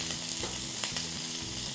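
Shell-on shrimp fry in olive oil in a pan, giving a steady close sizzle with light crackle throughout and no voices.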